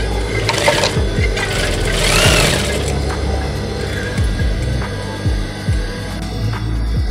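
A sewing machine stitches fabric pieces of a bow tie, producing a close mechanical whirring with a series of short, rhythmic clicks and thumps, alone without talk.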